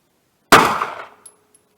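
A single 9mm pistol shot fired outdoors in the cold with handloaded ammunition, 100-grain bullets over HP-38 powder: one sharp, loud crack from near silence, followed by a short ringing decay and a faint click.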